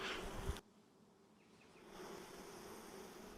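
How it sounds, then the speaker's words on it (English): Honeybees in a hive buzzing after smoke is added, a steady close-miked drone that follows a brief loud rustle at the start and then grows slightly stronger. "The bees will start really buzzing, but then they'll settle down again"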